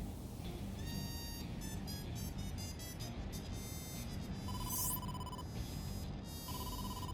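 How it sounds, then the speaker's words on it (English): A phone rings for an incoming call in the game AI: The Somnium Files, with repeated electronic trills and beeping tones in bursts over a low background rumble, clear and alone without speech. "Date, incoming call from the boss"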